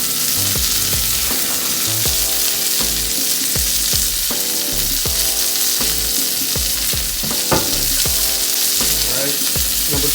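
A rib eye steak sizzles loudly in a hot pan with a constant hiss and crackle, broken by irregular pops and occasional stirring sounds.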